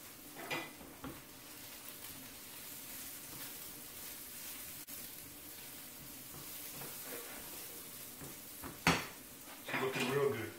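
Seasoned mushroom spinach cream sauce being stirred in a pan, with a steady low scrape and clink of a utensil against the pan. A few sharper knocks come near the end.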